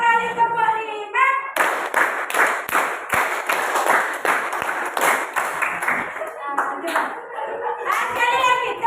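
Children clap a counted rhythm pattern in a classroom lesson, bursts of dense claps in repeated groups between a teacher's spoken counting and instructions.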